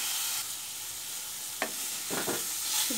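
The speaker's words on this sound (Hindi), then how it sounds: "इसे भी मैं 2 मिनट भून लूँगी ताकि इसका कच्चापन दूर हो जाए लहसुन अदरक का" Garlic ginger paste sizzles steadily in a pan while onions and capsicum cook, with a few scraping stirs of a spoon near the end, close and fairly loud, without talking.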